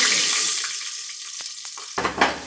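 Whole garam masala spices fry in hot oil inside a pressure cooker, giving a bright, hissing sizzle that slowly fades. A few short knocks and scrapes follow, then the sizzle rises again briefly near the end.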